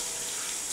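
Tap water runs steadily into a sink during face washing, a soft, even hiss with no breaks across the short moment, fairly quiet and close, with no talking.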